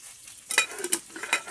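Small tamban fish frying in a home kitchen pan in the Philippines: soft sizzling with a few sharp crackles and spatters over a brief moment, fairly quiet.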